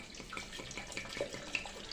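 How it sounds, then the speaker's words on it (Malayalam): Two glasses of water poured into a mix for lime mint juice, a faint trickling stream with small splashes and drips, quiet and steady throughout. "നമുക്ക് 2 ഗ്ലാസ് വെള്ളം ഒഴിക്കാം."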